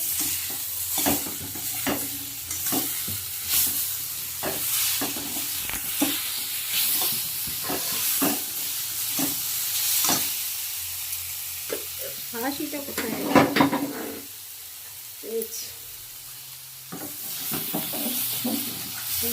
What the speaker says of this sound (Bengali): এবার একটু একটা মিষ্টি দিয়ে নাড়াচাড়া করবো